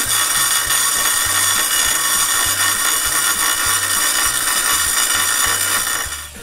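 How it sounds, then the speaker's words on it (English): Bench grinder grinding the end of a steel woodworking beading tool, a loud continuous high abrasive hiss over a pulsing low motor drone, steady throughout and tapering only at the very end. "Then on the grinder, I grind the end somewhat straight."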